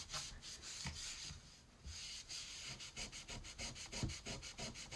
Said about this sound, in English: sponge here, and it helps to get all of the chalk paste off. Just got to use a little bit of elbow grease.